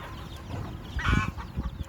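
Cheonggye chickens cluck and murmur at close range on a farm, with a louder squawking call in the middle over a steady low rumble of background noise.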